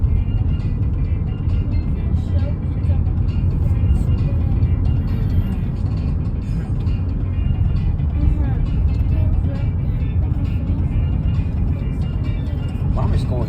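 A 2017 Blue Bird Vision diesel handicap bus runs with a loud, steady engine rumble and drone throughout, with people talking over it.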